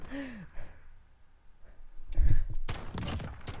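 Marksman rifle fire in Call of Duty Modern Warfare, several sharp, loud shots in quick succession near the end after a quieter stretch of game sounds and a brief voice.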